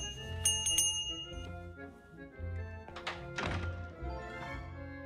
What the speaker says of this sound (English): The nice thing about the bell, Bill can't ignore me